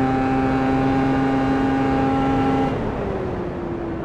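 A 2025 Arctic Cat ZR 858 ATAC Catalyst 137 snowmobile engine runs loud and close with a steady, high tonal drone at high elevation, then the pitch drops as the revs ease off near the end.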